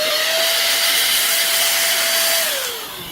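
A BELIBUY mini cordless handheld vacuum and duster blows air in a steady, close, loud whir with a thin motor whine, then drops slightly in pitch and level near the end.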